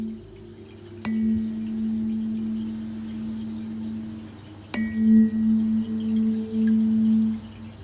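A third eye chakra sound healing instrument is knocked twice, each strike giving a sharp attack and then a steady, pure sustained ring, the second ring wavering and pulsing, close and alone without speech.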